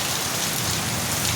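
Heavy rain pours down outdoors in a dense, unbroken hiss of drops drumming on surfaces, steady and loud from start to finish with no voices.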